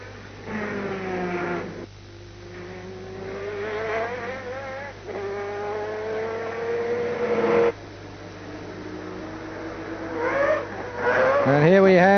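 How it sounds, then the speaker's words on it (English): A 1991 Mazda 787B Le Mans race car with a rotary engine screams past on track, its rising and falling engine pitch repeating in several passes, with a commentator talking over it throughout. "This is the second place car now, the Mazda of Johnny Herbert."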